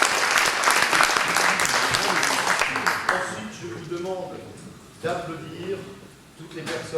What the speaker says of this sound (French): Ensuite, je vous demande d'applaudir